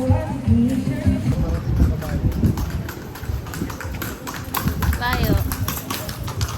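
Hooves of a brown horse clip-clop on the stone street of Calle Crisologo in Ilocos Sur, Philippines, a close, steady run of taps heard under people talking.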